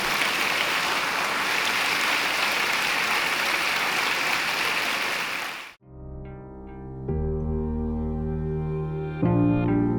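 Applause from a church congregation fills the space, a dense, steady wash of clapping that stops abruptly partway through, after which music takes over.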